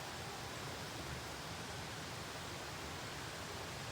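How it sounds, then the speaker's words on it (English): Steady, continuous rush of a mountain creek flowing near a garden in western North Carolina, an even broadband wash of water with no pauses, close and moderately loud, with no voices over it. "close to that creek right there that you hear"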